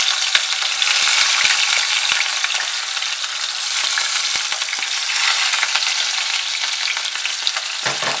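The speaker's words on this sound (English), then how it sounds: "Now our oil has heated up enough. Now that's when we go in with our onions." Sliced onions sizzling in hot oil for a pilau, a steady, bright crackling fry with occasional soft stirring clicks and no talking throughout.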